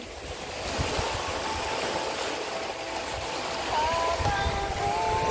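Water lapping close to a house in a flooded spot, a steady wash of small waves and surf-like hiss with some wind noise, continuous and fairly near, with no talk.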